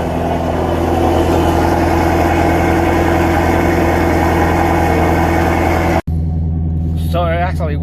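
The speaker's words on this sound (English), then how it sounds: "if anybody want to have the exhaust active when you turn it on, it sounds loud, especially in the garage" Ford Mustang GT350 engine running with the exhaust valve open, a loud, close, steady rumbling idle filling the space, then a brief cutoff before it resumes, with a voice speaking over the end.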